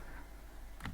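Brief burst of computer keyboard typing while entering Python code, a few quick key clicks near the end after a quiet pause, close and alone.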